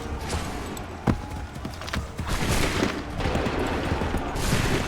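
A musket volley in the Assassin's Creed 3 video game: dense, continuous crackling gunfire from many muskets at once, loud and sustained with one sharper report standing out early on.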